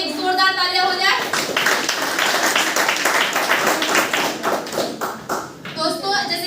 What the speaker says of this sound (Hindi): तो फिर आपके लिए भी एक जोरदार तालियां हो जाए।